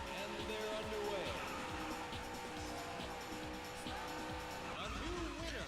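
Race car engines roar steadily in the Daytona USA arcade racing game, with revving pitch sweeps and squealing tires while cornering, loud and continuous with game voice audio mixed in.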